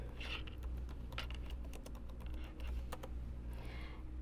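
Keys clatter on a computer keyboard in a quick, uneven typing rhythm while a search is entered into Twitter, close and steady with no talk over it.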